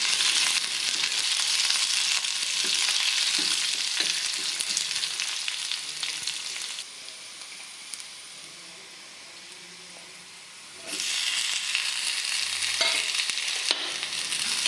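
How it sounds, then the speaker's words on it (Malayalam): Chopped onion sautés in a pan while being stirred, giving a steady broadband sizzle with scraping stir sounds, louder at the start and end with a quieter stretch in the middle; no talking. "ഞാനിവിടെ ഒരു ചെറിയ സവോളയും കൂടെ അരിഞ്ഞ് ഇതിലേക്കിട്ട് വഴറ്റി ഒന്ന് ചെറുതായിട്ട് ചെറുതായിട്ടൊരു ചെറിയ ഒരു ബ്രൗൺ കളർ വരുന്ന പോലെ ഇളക്കണം"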